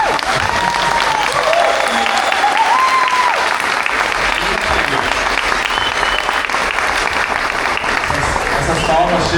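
Sustained audience applause at the close of a Christmas program, steady and dense clapping from a large crowd throughout, with some voices and cheering mixed in.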